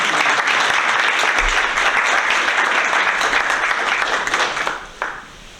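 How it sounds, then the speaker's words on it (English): A school board meeting audience gives a loud, full round of applause that holds steady and then thins out and fades near the end. "How about one more round of applause?"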